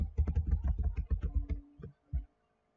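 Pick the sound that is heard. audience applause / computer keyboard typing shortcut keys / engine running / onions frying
computer keyboard typing shortcut keys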